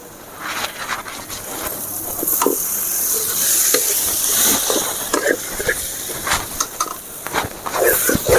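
Potatoes fry in a pan with masala, a steady sizzle under repeated scraping and stirring strokes of a spoon, fairly loud and close.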